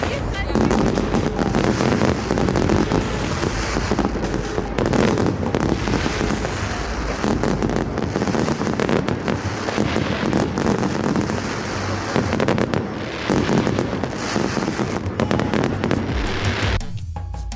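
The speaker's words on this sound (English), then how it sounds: "people set off many fireworks" Dense, continuous crackling and booming of many fireworks going off during a Diwali evening in India, loud and sustained with overlapping blasts and some voices mixed in.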